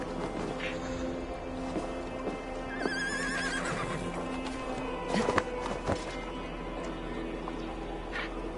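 A horse in Assassin's Creed Valhalla whinnies after being summoned, a brief neigh rising near the middle over a steady game ambience with faint hoof clip-clop.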